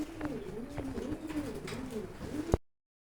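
Indonesian fancy pigeons coo in a steady, layered stream of soft rolling calls, several birds overlapping close by, with a sharp knock near the end before the sound cuts off.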